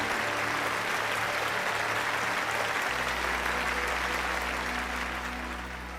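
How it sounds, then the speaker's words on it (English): Clapping from a crowd in the video game Final Fantasy XII, a steady wash of applause over a low background hum that shifts partway through. "You say nice things, so we should clap."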